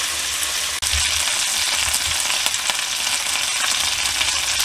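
Chicken fries in olive oil in a pan, a steady close sizzle running throughout, with one brief clack partway through and no talking.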